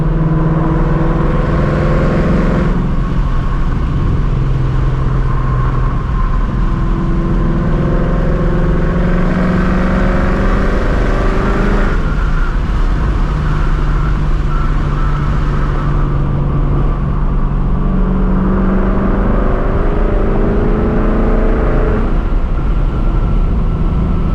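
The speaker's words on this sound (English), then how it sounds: "Absolutely love how deep this car sounds." A deep, rumbling 500 hp Ford Mustang GT S650 V8 engine idles and revs repeatedly, swelling and falling in pitch, loud and close with no talking.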